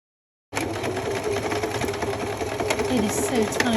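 A sewing machine runs steadily while stitching the tiny seam allowance on a handmade soft toy duck, a continuous close whirring hum with a slight surge near the end.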